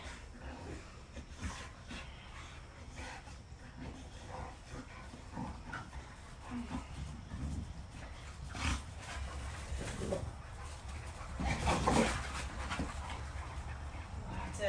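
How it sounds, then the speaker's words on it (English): Dogs running around and playing indoors, with scattered panting, soft whimpers and thumps of movement, fairly faint and distant, rising briefly near the end. "If you hear my dogs, they're running around and playing today."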